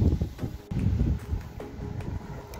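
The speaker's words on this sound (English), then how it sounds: "the wind is picking up" Gusty wind buffets and roars against the microphone outdoors, with a steady low rumble and occasional rustling.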